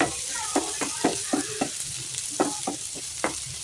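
Garlic and onion sautéing in a pan for beef caldereta, a steady frying sizzle broken by repeated scraping stir strokes close by, with no talking.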